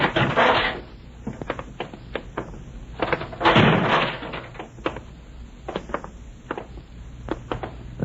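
A fire door in an old-time radio drama is pushed open and swings shut with a heavy thud, followed by a run of sharp clicks and knocks and a second muffled bang, all close and clear.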